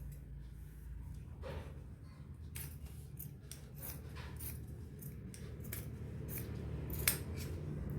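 Scissors snip through two layers of cloth for a Patiala salwar, a series of faint, crisp, irregular cuts over a quiet background hum.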